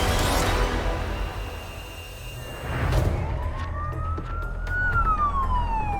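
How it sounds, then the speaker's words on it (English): An ambulance siren on an urgent Code 1 run in Melbourne, wailing and rising and falling in pitch over road noise, growing louder and clearer toward the end as the vehicle passes near. "Lights and sirens are immediately required for this time-critical job."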